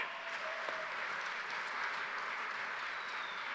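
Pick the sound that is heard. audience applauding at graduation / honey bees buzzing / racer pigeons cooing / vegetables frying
audience applauding at graduation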